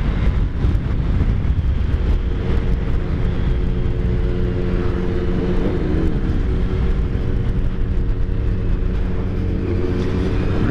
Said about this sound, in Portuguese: Ah, mas tem uma ventania,